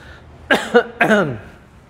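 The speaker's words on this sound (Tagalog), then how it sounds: "Pwede mo iubo." A few forced coughs in quick succession, close and fairly loud, with nothing else around them.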